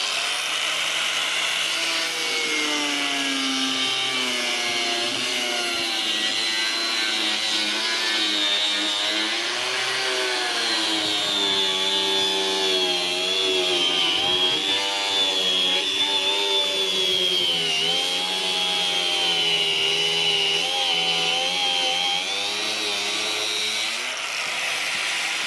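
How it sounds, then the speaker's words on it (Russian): An angle grinder fitted with a metal-cutting disc cuts through porcelain tile, holding a loud, continuous high whine whose pitch wavers under load for about 25 seconds, with no talk. "Вот сейчас вот пробуем резать обычной болгаркой, обычным диском по металлу."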